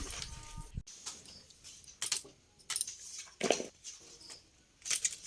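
A knife chops pumpkin into square pieces, giving a run of crisp, irregular cuts and light taps against a board, close and fairly quiet with short pauses between strokes.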